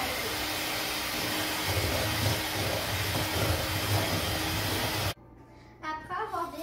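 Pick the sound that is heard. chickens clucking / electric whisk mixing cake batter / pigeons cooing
electric whisk mixing cake batter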